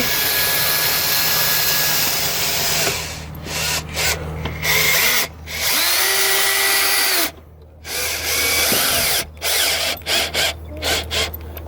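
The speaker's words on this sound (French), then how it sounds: "On va prendre notre visseuse et des vis et on va recommencer à visser." A cordless screwdriver drives screws into a wooden ramp, close and loud, in several whirring bursts with short pauses and a few rising pitch changes as each screw bites into the wood.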